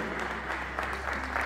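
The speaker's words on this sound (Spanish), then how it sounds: "Recibámosla con un aplauso también" Audience applause welcoming a fan at a Gloria Nova event, dense steady clapping at moderate distance with a low hum underneath and faint voices.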